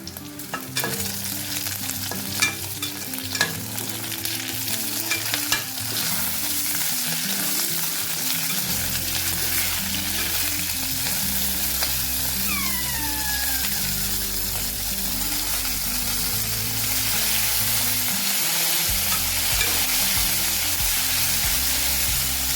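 Fenugreek seeds frying in a pan of oil for an Andhra gongura pickle, a steady loud sizzle with stirring and scraping throughout.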